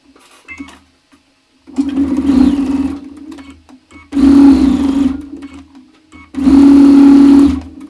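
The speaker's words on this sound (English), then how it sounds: "now it's time to sew each of the rows to one another" A sewing machine stitches quilt rows together in three bursts of fast, steady whirring, each several seconds long and louder than the last, with quiet pauses and small handling clicks between.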